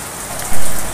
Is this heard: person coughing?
no